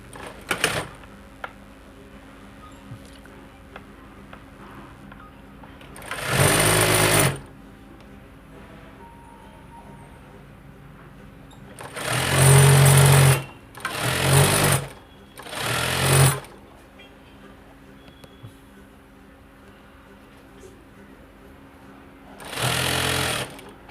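A sewing machine stitches a churidar side pocket in several separate bursts of rapid mechanical whirring, each a second or two long, separated by quiet pauses with faint handling noises.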